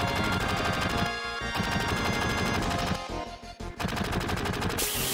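Rapid, continuous automatic gunfire in Final Fantasy VII rattles loudly throughout, with a few brief pauses between bursts and a sharp crack near the end.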